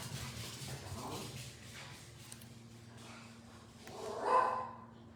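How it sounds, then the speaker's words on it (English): A neighbor's dog barking outside: one muffled bark near the end, heard from a distance over a low indoor hum. "The neighbor's dog is outside"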